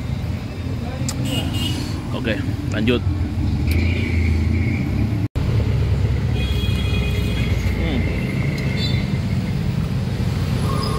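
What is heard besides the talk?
weekend traffic jam on Jalan Monumen Emin Sayalan, Makassar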